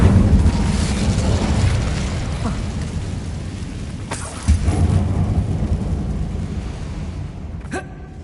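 An Incendio fire spell blast in the game Hogwarts Legacy, a loud rumbling roar of flame with a few thumping impacts that gradually dies down, ending in a sharp crack.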